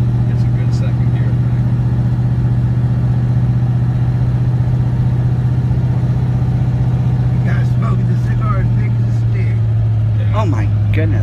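An old car's engine labors uphill in second gear, a loud steady drone that holds throughout, with brief voices and knocks near the end.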